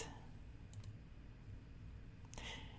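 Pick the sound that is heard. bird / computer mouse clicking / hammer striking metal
computer mouse clicking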